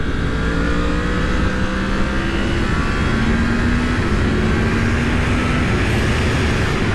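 A 2020 Yamaha MT-10 super naked motorcycle accelerates hard on a motorway, its engine note climbing steadily under constant loud wind roar for several seconds, recorded from the rider's position.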